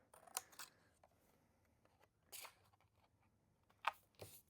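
Scissors snipping paper to trim it slimmer for an envelope, a few quiet separate cuts spaced out over several seconds, close and crisp against a still room with no talk.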